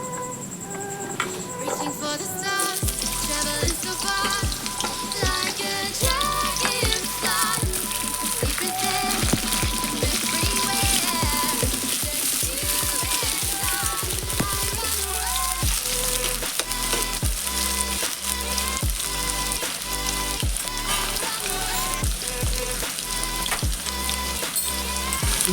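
Small diced potatoes frying in a pan with oil for a ridge gourd and poppy seed dish, a loud sudden sizzle on dropping in, then continuous crackling and spitting with occasional stirring clatter.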